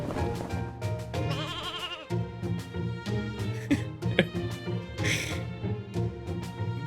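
Sheep bleats from the video game Fate/Grand Order, a few repeated wavering cries over game music and effects, moderately loud and up front.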